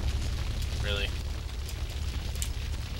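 A truck explodes in the video game GTA3 with a sustained, dense roar of blast and burning noise that fills the whole stretch, with a short tonal squeal near the start.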